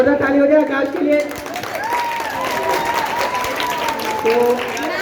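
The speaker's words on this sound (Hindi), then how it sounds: "तो जोरदार ताली हो जाए आकाश के लिए।" An audience claps loudly for a child dancer at a dance academy's Independence Day programme, steady dense applause mixed with a few cheers and voices and a tonal line of background music or speech throughout.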